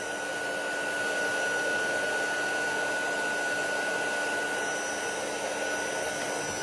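Electric heat tool blowing hot air over raised stencil butter paste on a craft project, a steady loud whooshing hum with a constant whine that holds evenly throughout, with no voices.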